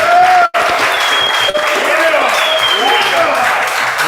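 An audience claps for a Dallas legend of the boogie movement, a dense, steady patter that runs for a few seconds, with voices and chatter mixed in over it.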